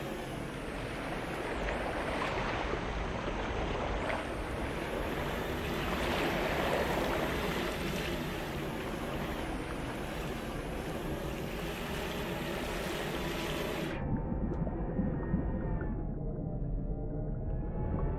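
Water and waves in a flight simulator game: a steady, loud rushing wash of water with a droning undertone, running unbroken, then dropping abruptly to a thinner, quieter hum for the final seconds.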